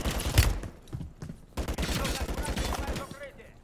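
Rapid gunfire aimed at a turret in a Call of Duty: Modern Warfare III (2023) firefight, with one sharp shot, a brief lull and then a sustained rattling stream of automatic fire that fades at the end.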